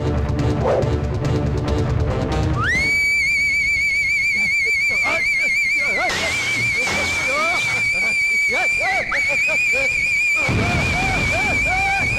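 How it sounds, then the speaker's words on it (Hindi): A shrill, steady whistle is blown and sustained for several seconds, with a few brief warbles and breaks, over a loud background score in an action movie scene. "ऐसे बजाते हैं सीटी।"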